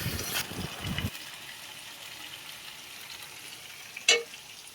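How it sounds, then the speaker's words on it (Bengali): Chicken and Malabar spinach stalks stir-fried in a pan: a brief stretch of scraping, sizzling stir at the start, then a steady low hiss with one sharp clink near the end. "ডাঁটাটা দিয়ে ভালো করে আবার নেড়ে চেড়ে ভালো করে মাংসটা কষিয়ে নেব"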